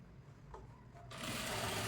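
A sewing machine stitching a princess-cut blouse starts up after a second of quiet handling, then runs in a close, steady, even whir.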